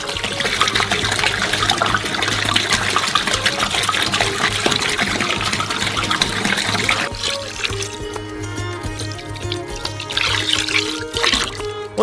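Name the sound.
pouring remaining water into cocoa ice cream mixture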